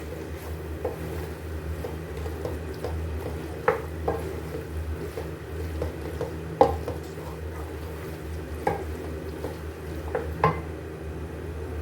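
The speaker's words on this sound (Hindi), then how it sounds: "अब साथ में इसके हम चने भी डाल लेंगे और इसको हम मिक्स कर लेंगे।" Chickpeas being stirred into chicken in a pot for shahi murgh cholay, with soft scraping and occasional light clinks of a spoon against the pot over a low steady background, no talk.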